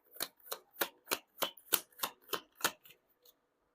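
Tarot cards shuffled by hand in a quick run of about ten crisp riffling bursts at a steady rhythm, close and fairly quiet, with no talking.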